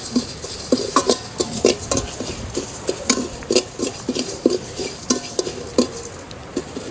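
Dried red chillies with panch phoron spices fry in a pan while a utensil scrapes and taps against the metal in quick irregular strokes, close and prominent, with only a faint sizzle underneath.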